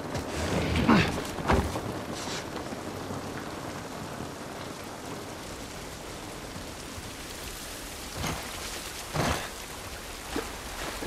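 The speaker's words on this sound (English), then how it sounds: "This rain ain't gonna do us any good." Steady rain pours down in a constant hiss in the video game The Last of Us Part I, with a few louder splashes and thuds breaking through.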